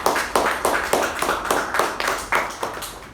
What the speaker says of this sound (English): let's give a round of applause for the great job.